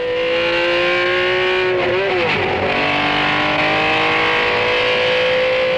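A 1972 race car is driven hard on the Targa Florio road circuit. The loud, close engine howl holds a high, steady pitch, dips briefly in a quick shift, then climbs again.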